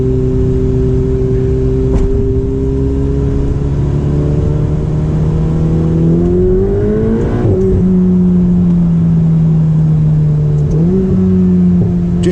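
A Ferrari 488 Spider engine drones loudly and steadily from inside the car, its pitch rising and then dropping sharply at shifts, with a second quick shift near the end.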